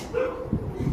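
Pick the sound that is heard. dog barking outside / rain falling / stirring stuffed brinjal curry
dog barking outside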